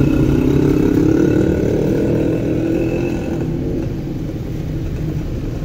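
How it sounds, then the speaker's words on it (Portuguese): A motorcycle passing on a street in Cobija, Bolivia, a loud close engine rumble that gradually eases as it moves off, amid general street noise. "Olha essa moto aqui, ó."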